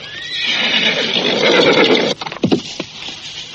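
A horse gives a long, loud whinny close by, then hooves clop in a short uneven run as the neigh fades.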